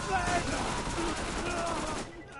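Rapid gunfire rattles in Borderlands, the video game, as dense overlapping shots fill the scene for about two seconds before cutting off abruptly.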